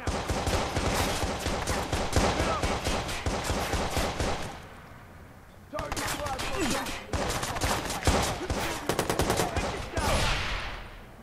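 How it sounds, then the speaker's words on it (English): Rapid automatic gunfire in the Watch Dogs video game, dense bursts of shots rattling almost continuously, a brief pause partway through, then more fast volleys, loud and close. "Oh, I'm getting shot at."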